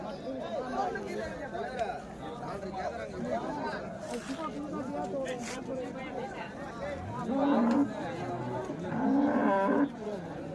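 Cattle and calves at the Vaniyambadi cattle market mooing amid a busy crowd, with low drawn-out moos rising above constant chatter and people talking nearby.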